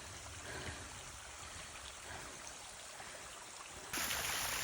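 Steady rush of the Garfield waterfall stream beside the Appalachian Trail in the White Mountains, a constant broadband wash of running water heard up close, with a brief rise in level near the end.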